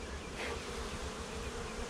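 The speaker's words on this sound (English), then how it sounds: "A lot more bees than I thought there was." Honey bees buzz around a comb in a hive, a steady close hum of many wings at low-moderate volume, continuous throughout with no voices.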